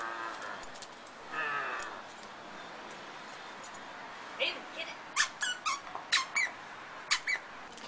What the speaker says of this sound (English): it's nice that she has a squeak and I can manually squeak it from the side that she's not